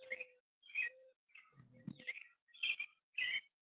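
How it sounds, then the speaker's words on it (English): Birds chirp outdoors in short, separate bursts of bright tweets and calls, fairly faint and a little distant, with one lower cooing-like note among them and quiet gaps between calls. "You still hear those birds?"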